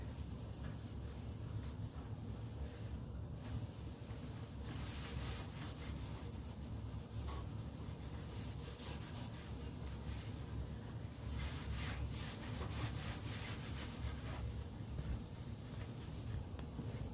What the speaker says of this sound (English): So you want to buff this out with a different rag.